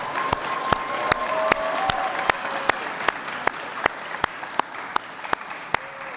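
An audience at a Chicago end-of-summer celebration applauds for Fatal Perkins, steady crowd clapping with sharp, regularly spaced claps standing out close by above the general patter.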